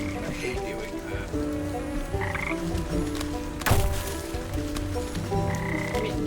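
Frogs croaking in the video game Wytchwood, a layered chorus of repeated croaks over a busy game soundscape with a brief louder burst midway, no voices.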